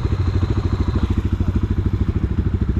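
A motorcycle engine idles close and loud with a steady rapid chugging pulse and clattering mechanical beats, continuous throughout with no talk.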